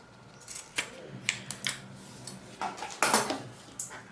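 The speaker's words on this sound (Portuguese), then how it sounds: "eu já corto o excesso de zíper dos 2 lados" Scissors snip off the excess zipper on both sides of a small sewn pouch, giving several sharp, close metallic clicks and cuts in irregular bursts, faint rustling of fabric between them.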